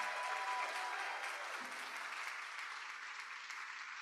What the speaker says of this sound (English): the biggest round of applause certainly for our graduates, but maybe equally loud for our staff